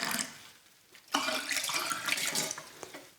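Water gushes and splashes steadily after a brief quieter stretch, like a tap running into glass jars in a kitchen, filling continuously until the end.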